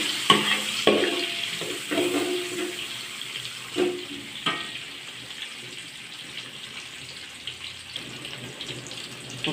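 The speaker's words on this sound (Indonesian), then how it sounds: "Goreng hingga agak layu dan bau." Sliced onions frying in a pan, soft sizzling with repeated scraping and clanking stirs of a utensil against the pan, close and moderately loud.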